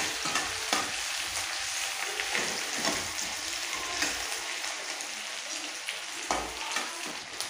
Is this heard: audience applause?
no